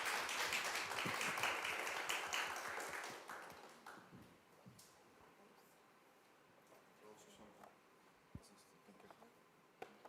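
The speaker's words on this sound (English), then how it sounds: "we can give you applause" Audience applause at a talk on fighting fraud through technology: a loud, dense burst of clapping that fades away over a few seconds, leaving a quiet room with a few scattered clicks.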